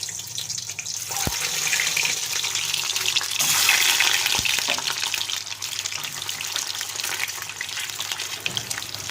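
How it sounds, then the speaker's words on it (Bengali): Eggs coated in turmeric are dropped into hot oil and fry with a steady, close hiss and sizzle that runs throughout. No one speaks over it. "এইবার এই ডিমগুলো একটা একটা করে এই তেলের মধ্যে"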